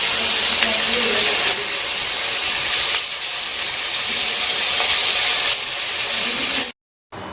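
Onions and potatoes sautéing in a pan produce a steady, bright hiss that stays even and close for several seconds, then cuts out abruptly near the end.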